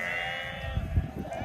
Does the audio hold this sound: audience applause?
no